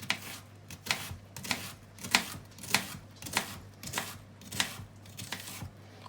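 A knife slicing down through an onion on a cutting board, about nine steady rhythmic cuts with crisp thuds, close up and clear, no speech.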